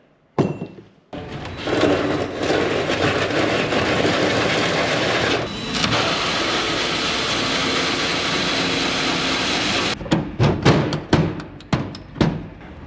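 A 1.5 inch hole saw drills through an engine pan, a loud close grinding whir that holds steady for several seconds, then dips briefly and resumes before stopping, followed by a run of knocks and clunks.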